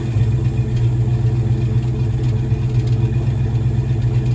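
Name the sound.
car engine running with new exhaust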